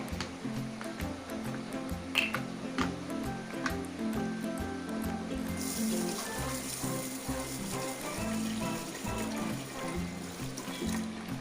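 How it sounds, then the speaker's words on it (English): Rice is washed with water inside a rice cooker pot, a steady close swishing and trickling of water stirred through the grains that runs continuously at low level. "And you wash it with water."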